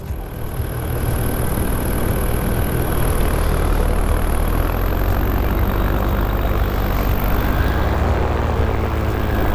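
The engine of a small aircraft drones steadily and loudly through the whole cruise in flight, a constant cabin roar with no breaks. No talk can be heard over it.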